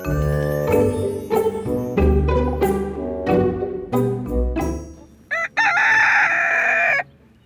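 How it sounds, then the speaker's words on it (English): Homestead chickens cluck in a rapid series of close, loud calls, followed near the end by a rooster crowing clearly, with no talking. "Good morning, chickens."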